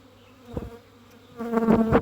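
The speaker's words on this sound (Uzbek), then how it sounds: "juda ham uchyapti arilarimiz" Bees buzz close by in brief droning passes, one short hum followed by a louder, longer buzz as they fly near.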